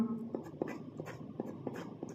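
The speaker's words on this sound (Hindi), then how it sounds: "बाकी मैं नीचे लिख रहा हूँ" Chalk or marker strokes on a board during a maths lesson, quiet and close, coming in short regular taps and scrapes, roughly three per second, with no talk.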